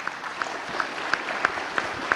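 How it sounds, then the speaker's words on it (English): Applause for speakers at a conference session of development finance institutions, heard as thin, sparse clapping with a few sharp, evenly spaced claps standing out over a soft background. "please give the big clap for our speakers"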